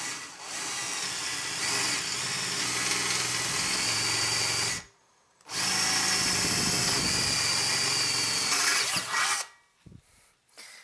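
A power drill bores a hole in the metal chassis of a tube audio amplifier with a steady whine, stops briefly, then runs again before winding down in short bursts, with no voices.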